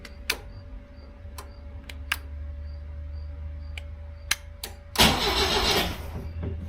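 Engine of a 1976 BMW 2002 with a newly installed push button start and carburetor cranks briefly with ticking clicks, then catches in a loud burst of sound, heard close up with no talking.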